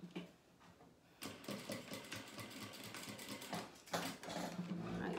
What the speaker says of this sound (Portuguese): faça uma costurinha aqui pra ele não ficar solto